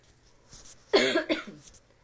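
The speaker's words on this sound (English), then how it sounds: "I'm trying to not cough into my microphone" A single harsh cough close to the microphone, breaking out of near silence and tailing off quickly.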